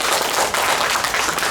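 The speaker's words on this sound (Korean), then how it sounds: "같이 박수하겠습니다" A lecture audience at a church gathering claps together, a short, dense burst of steady applause with no voices.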